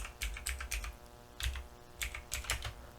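Someone types a command into a computer keyboard at a Windows command prompt, producing quiet, close clusters of quick key clicks separated by short pauses.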